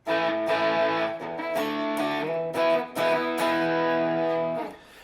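An electric guitar plays sustained chords through an Enya Inspire with distortion, thick and buzzy, with a few chord changes and a brief pause before ringing out.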